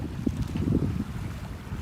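Wind of about 8 to 10 knots buffets the microphone over the low rush of water against the hull of a Mirage 24 sailboat on a close-hauled course, a brief, moderately loud burst of sailing noise.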